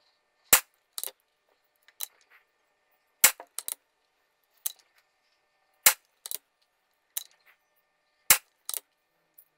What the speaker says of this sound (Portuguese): Vamos fazer 10 disparos, chumbos não selecionados